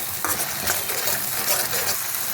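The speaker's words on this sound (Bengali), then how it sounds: "ভালো করে পোস্তটা একটু আমি ভেজে নেবো মশলাটার সাথে" Poppy seed paste frying in oil with salt and turmeric, a dense close sizzle with scraping stirring strokes against the pan, continuous and moderately loud.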